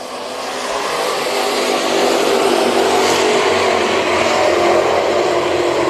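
Race cars at Junction Motor Speedway roar off together on a restart under green, the engine noise swelling quickly and then holding as a loud, dense, continuous howl.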